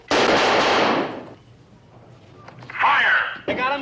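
Rifle shots fired from the prone position at a shooting range ring out as one loud, crackling burst lasting about a second, then fade into quiet before voices speak.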